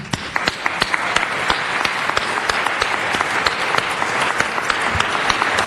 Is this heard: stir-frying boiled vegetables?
no